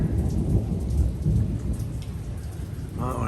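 A deep rolling of thunder mixed with steady rainfall in a Los Angeles rainstorm, dense and close, easing slightly toward the end with no one speaking.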